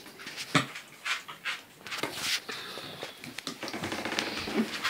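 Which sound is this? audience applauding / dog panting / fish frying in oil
dog panting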